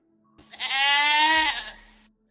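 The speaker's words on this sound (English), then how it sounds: "I can hear the goats." A goat lets out one clear, wavering bleat, close and loud, lasting about a second before fading out.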